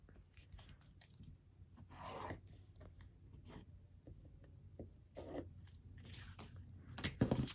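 Scissors cutting paper for a mini chunky fairy journal cover, a series of quiet rasping snips and rustles, fairly close and soft, with a louder crunchy cut near the end.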